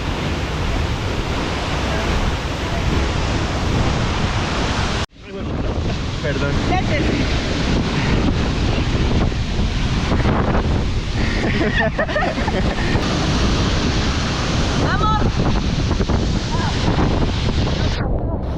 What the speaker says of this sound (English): we went right under the waterfall and there was so much water splashing all over us